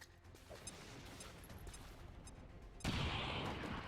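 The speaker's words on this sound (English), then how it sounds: "throw a grenade to kill him off" A grenade goes off in XCOM 2 as a sudden, loud, wide blast near the end, following a few seconds of quieter low rumbling game ambience; no one speaks.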